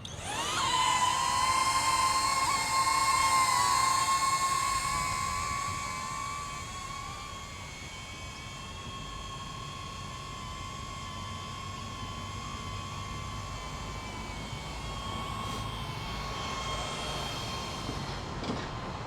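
DJI Neo 2 drone flying in boomerang mode, a steady high-pitched propeller whine with a strong tonal hum that swells loudest early on as it passes close, then settles into a softer, sustained buzz as it flies away and returns.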